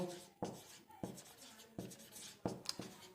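Pen scratching across paper while writing out a Class 10 maths solution, with steady strokes marked by several sharp taps and pauses, close and faint.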